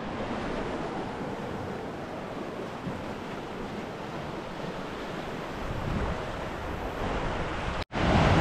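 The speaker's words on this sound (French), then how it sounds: "Une autre cascade les gars." A waterfall in a Canadian forest during spring snowmelt, its steady broadband rush of falling water loud and continuous, with some wind buffeting, alone without talk, ending in a brief cut.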